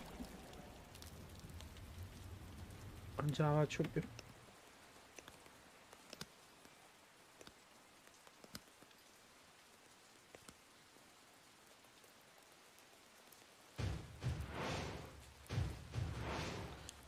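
Steady rainfall hisses in the background of Final Fantasy 9, continuing under stretches of someone talking in Italian at the start and end.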